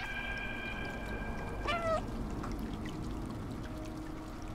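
A single short meow from a cat in the Stray video game, brief and moderately near, set against a constant pouring, streaming water ambience.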